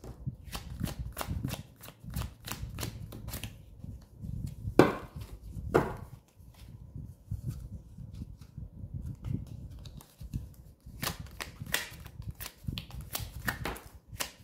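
Tarot cards shuffled by hand, loud close runs of quick flicking and slapping with a couple of sharp taps midway and a quieter pause before a final burst.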